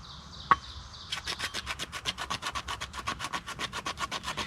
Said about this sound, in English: what I'm doing now is making Fatwood dust from this by using this part of the scraper